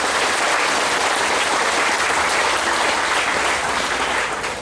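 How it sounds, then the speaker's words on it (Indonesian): An audience at a provincial governor's working visit claps steadily, a loud, dense wall of applause sustained throughout with no letup. "Terima kasih tepuk tangannya"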